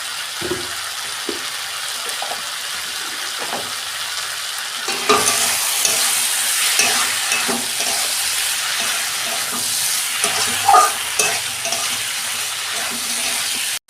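Mixed vegetables and spices with salt are stir-fried in a pan for a vegetarian Bengali dish, a soft steady sizzle with intermittent scraping and clinks of a spoon that grows louder and busier midway.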